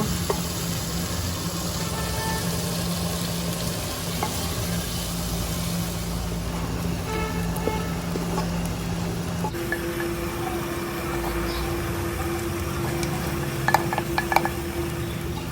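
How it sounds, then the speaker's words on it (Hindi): Cumin seeds fry in oil with bitter gourd in a pan, a steady close sizzle with faint pan clinks and utensil taps, a few sharper clinks near the end, and no voices. "और हमने 1 टीस्पून ज़ीरा भी इसमें डाल देना है और फिर दोबारा हमने फ्राई करना है इसको"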